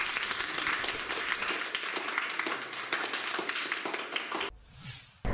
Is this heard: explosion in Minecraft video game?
no